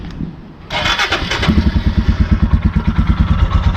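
A Royal Enfield Himalayan motorcycle engine cranks and catches, then settles into a loud, close, steady thumping idle with regular pulses, and no one speaks.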